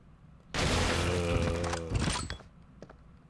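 A single heavy shotgun blast in Resident Evil 2 Mortal Night, a loud close boom with a ringing tail that fades over about two seconds, with no talk over it.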